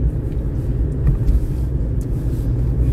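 Steady, loud low rumble from inside a car moving at about 46 km/h, continuous road and engine noise with no talking.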